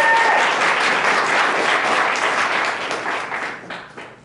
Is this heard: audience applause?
yes